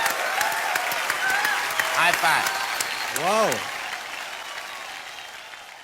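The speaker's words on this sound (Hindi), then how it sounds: "25 साल के लिए जोरदार तालियां" Studio audience clapping for a 25-year friendship on a Hindi talk show, a sustained bed of applause with cheers and voices rising over it.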